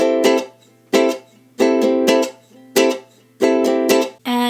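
Ukulele strummed with muted strings and no chords, in a repeating down, down, down, up pattern: crisp percussive chucks in steady groups, close and fairly loud, with no talking.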